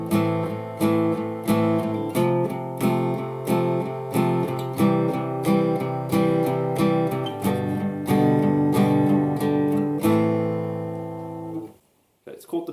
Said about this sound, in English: Now we're going to do a strum pattern I call the piano strum